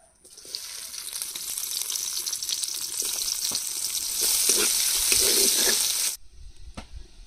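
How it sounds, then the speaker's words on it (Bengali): Chopped onion frying in mustard oil in a kadai outdoors gives a steady, close sizzle that swells louder midway, then cuts off abruptly near the end, with no talking. "তেলের মধ্যে দিয়ে দেব পেঁয়াজ কুচি"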